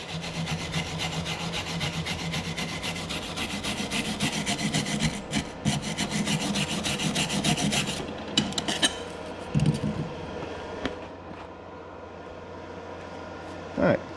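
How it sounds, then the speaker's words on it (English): Wire brush scrubbing white flux residue off a fresh weld bead, a continuous rapid rasping scratch that is close and fairly loud, thinning out into a few separate strokes and clicks toward the end. "we'll just take a wire brush and we'll just clean this off real quick"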